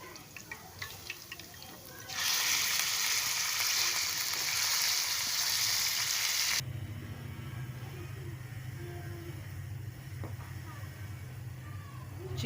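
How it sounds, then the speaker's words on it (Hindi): Small chicken pieces are added to garlic sautéing in a pan for chicken macaroni. Light crackles give way to a loud, steady sizzle that drops to a quieter fry with a low hum underneath. "लहसुन को हल्का सा सौते करने के बाद इसके अंदर हम चिकन ऐड कर देंगे।"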